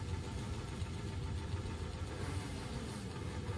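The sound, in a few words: two-stroke Bultaco flat track motorcycles, compression releases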